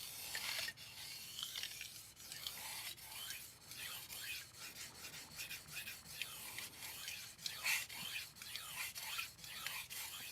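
Steel knife blade rasping in repeated back-and-forth strokes across an HK Knife Works 1k diamond sharpening stone, a rough, gritty scrape that is close and steady with small bumps in each pass.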